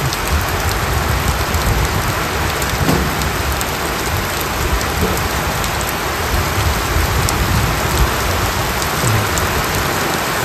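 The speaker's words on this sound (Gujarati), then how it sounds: "વરસાદ આવ્યો, વરસાદ આવ્યો." Heavy rain pours steadily in a village in Botad, a dense, loud, unbroken wash of drops beating on surfaces with a low rumble beneath, continuing without pause throughout.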